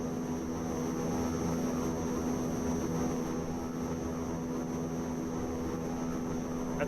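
A steady, continuous aircraft engine drone in the FS 2004 flight simulator, with a constant tonal hum and hiss at even loudness throughout, no other sounds.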